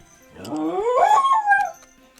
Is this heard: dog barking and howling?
yes